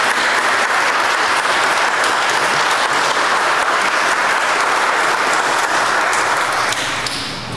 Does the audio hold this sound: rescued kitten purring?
no